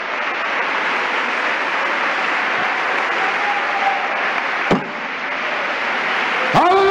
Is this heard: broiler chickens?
no